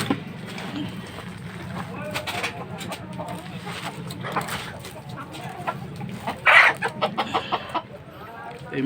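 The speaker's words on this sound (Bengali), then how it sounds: "এই মুরগটা আমার খুব শখের মুরগ।" A rooster clucks on a farm at night, with soft intermittent clucks and a louder burst of calls near the end, heard beneath someone talking close by.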